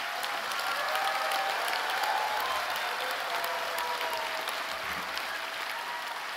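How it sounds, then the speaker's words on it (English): Applause for new graduates at a university graduation ceremony: sustained, dense clapping from a large crowd in a hall, steady and even throughout without speech. "Can we have a round of applause for our graduands,"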